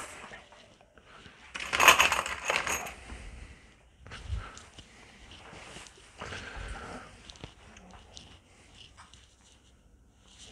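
Metal bolts jingle and rattle for a moment as one is picked out of a small pile, a brief clustered burst of clinks followed by quieter handling and scraping sounds nearby.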